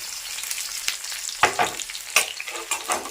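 Small onions and garlic fry in a pan with oil, tamarind and chillies for a spicy chutney, giving a soft, steady sizzle. A few louder scrapes of stirring break through at irregular moments, and no one speaks.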